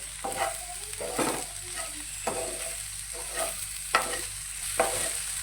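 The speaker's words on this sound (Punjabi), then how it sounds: "ਨਮਕ ਨੂੰ ਵੀ ਆਪਾਂ ਚੰਗੀ ਤਰ੍ਹਾਂ ਮਿਕਸ ਕਰ ਦਾਂਗੇ ਸਬਜ਼ੀ ਦੇ ਵਿੱਚ" Salt being stirred into okra sabzi in a pan: a spoon scrapes and stirs in repeated strokes, roughly one every second, over a low steady sizzle, close and moderately loud, with no talking.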